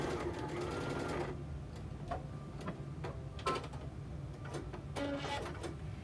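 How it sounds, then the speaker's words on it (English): A sewing machine runs in a fast rapid stitching burst along the end seam of a chef's apron, then stops, leaving a few scattered light clicks and handling taps. It is close and fairly loud, and a voice talks faintly in the background. "I'm placing a seam at the end."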